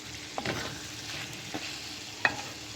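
Minced meat with bitter gourd is stirred in a hot pan, faint sizzling under a few distinct spoon scrapes and knocks against the pan, quiet and close with no talking.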